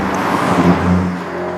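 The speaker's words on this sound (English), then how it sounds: "the other thing you notice as you're accelerating is the really great exhaust note" A 4-liter twin-turbo V8 in a 2022 Mercedes-AMG SL sends out a steady, full exhaust drone through flap-valve pipes as the car accelerates, with a slight swell midway through.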